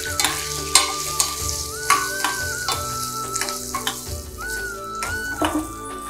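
Green chillies frying in a hot tempering for mango pulihora, a steady close sizzle with clinking stirring strokes against the pan and a faint electronic beep tone behind it.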